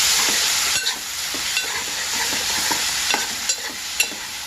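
Ginger garlic paste stirred into a masala frying on low flame for mushroom masala curry, a steady close sizzle with a spoon scraping and tapping the pan at a regular rhythm.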